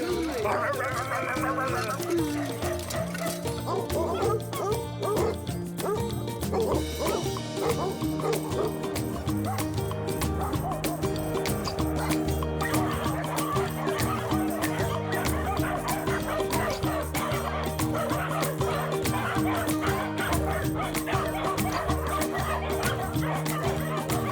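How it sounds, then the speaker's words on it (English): Several dogs bark and yip without pause in loud overlapping volleys along a walking route, with whimpers mixed in and a dense outdoor backdrop. "Non-stop barking."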